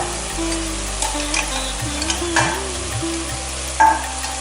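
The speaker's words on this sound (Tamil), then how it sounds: "கொஞ்சம் ஃப்ளேவருக்காக புதினா எல்லாத்தையும் போட்டு நல்லா ஒரு வதக்கிட்டுலாம்" Curry leaves and mint are sautéed in a pan with beans, a steady close sizzle under scraping stirs and a few light clinks, with no voices.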